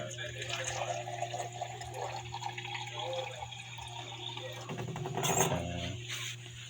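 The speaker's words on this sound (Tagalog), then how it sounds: "kailangan natin dagdagan ng tubig" Water pours into a cooking pot of pork near the end, a short splashing fill rising over steady background hum and some talk.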